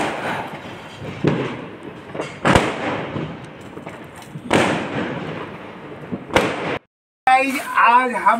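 Diwali firecrackers burst in the background of a home, several sharp cracks and booms at irregular intervals amid a steady murmur, with a voice speaking near the end.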